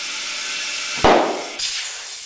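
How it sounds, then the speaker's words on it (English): A compressed-air blowgun hisses steadily as air is pushed into a tubeless ATV tire with the valve stem removed. A sharp pop breaks the hiss, then a second burst of air follows, all close up. "we're actually just using a blowgun. We have the valve stem out of here. And you're going to put it on here and blow."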